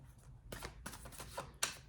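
A new, stiff tarot card deck being shuffled by hand, giving a few short riffling bursts with brief pauses between them, fairly close and quiet, with no voices.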